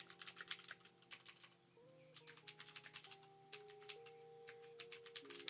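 Rapid typing on a computer keyboard to search for hand-to-hand combat drawing references, quiet close key clicks in quick bursts with brief pauses, over soft background music.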